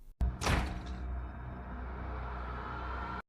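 A heavy door slams shut with a loud thud and whoosh, followed by a lingering low rumble that cuts off abruptly.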